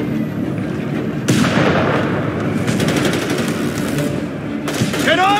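Battlefield gunfire in the Company of Heroes 3 Italian campaign: rapid machine-gun bursts and sharp rifle shots crackle over a dense, rumbling wartime din, loud and continuous with a few heavier booms.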